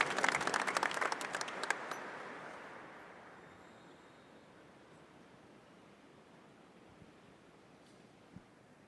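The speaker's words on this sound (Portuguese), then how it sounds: "Uma salva de palmas para a palavra de Deus, que é luz para os nossos caminhos." A church congregation at an opening Mass of a pilgrimage at a national shrine gives a burst of applause that is loud at first, then fades after about two seconds, leaving a soft roomy hush.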